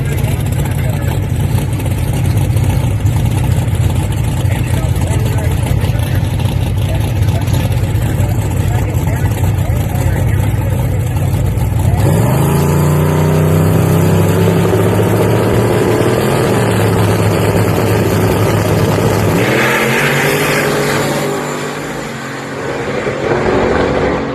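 Drag race cars make their pass at KD Cash Days 2026, Wajdi's car against Slick Rick's, with loud engine roar throughout and a surge of revving and acceleration midway, fading near the end, under crowd and commentary voices.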